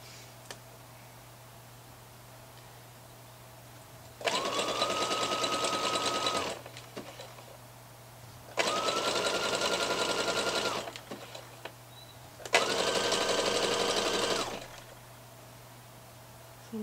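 A sewing machine stitches a striped sweatshirt in three steady bursts of about two seconds each, its whirring motor starting and stopping with quiet pauses and a low steady hum between runs.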